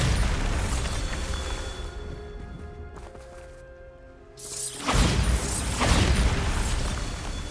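A Bombarda blasting spell in Hogwarts Legacy: a low rumbling hum gives way midway to a loud, sudden burst that swells into a sustained roaring blast.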